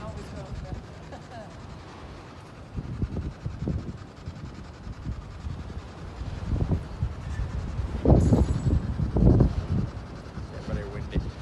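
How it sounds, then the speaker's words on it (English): Strong wind gusting around an old mill, a steady low roar broken by heavy rumbling buffets that swell and peak near the end, with faint muffled voices underneath. "Very windy."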